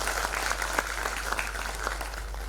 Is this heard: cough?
no